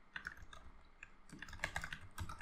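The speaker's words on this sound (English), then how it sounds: "I'm just filling the required information here, and I'm just typing the email" Computer keyboard typing while filling in an email field in a web form, a quick irregular patter of close, soft key clicks.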